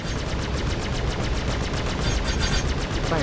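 Rapid automatic ship weapons in the Star Citizen space game fire in a steady, fast stream of shots for the whole stretch, loud and close, with no talk over them.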